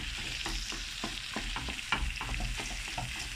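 Pumpkin pieces frying in a pan with butter and olive oil, a soft, close sizzle broken by repeated crackles and light stirring scrapes, no talking.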